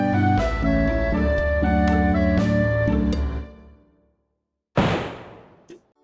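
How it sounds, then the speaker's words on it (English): A single sharp gunshot effect, loud and percussive, rings out after a composed instrumental piece ends and fades to silence, followed by a short faint click. "Why the hell is there a random gunshot at the end?"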